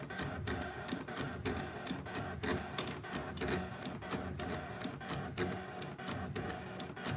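A Brother ScanNCut cutting machine moves its mat in a fast, regular run of mechanical ticks and clatters, close and fairly quiet, continuing evenly throughout without talk.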